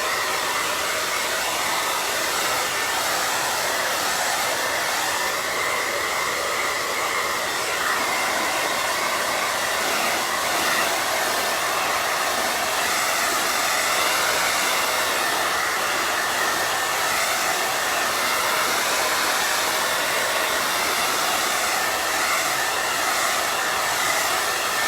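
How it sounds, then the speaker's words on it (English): A blow dryer runs steadily on a freshly painted wine bottle holder, a loud, even whooshing roar that holds unbroken throughout with no voices. "I'm gonna hit this with the blow dryer real quick"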